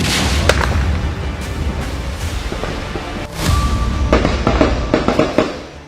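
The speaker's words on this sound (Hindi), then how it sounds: "रुक रुक के फायरिंग की आवाज फिर आ रही है।" Sporadic gunfire in Kashmir, scattered sharp cracks and bangs at irregular intervals, some echoing in the distance, with a louder cluster toward the end.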